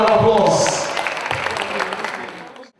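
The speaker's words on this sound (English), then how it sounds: "Give her a round of applause." Brief audience applause at a university youth empowerment event, a short burst of clapping mixed with a voice at the start, fading out quickly.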